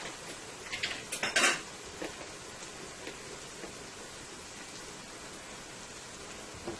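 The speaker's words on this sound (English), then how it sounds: "Let's give this a good toss here." Spinach seasoned with garlic powder and black pepper gets tossed in a metal pot, a brief cluster of clattering scrapes and knocks early on, then only a faint, quiet room hiss.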